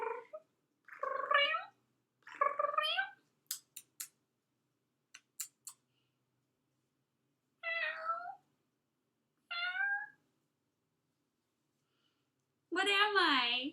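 A voice imitates a cat, giving several drawn-out meows separated by pauses, with a few sharp clicks in between and a longer, wavering meow at the end.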